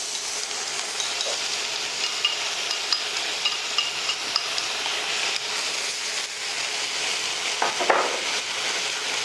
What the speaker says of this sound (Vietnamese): Hến đây là xào qua thưa quý vị nhé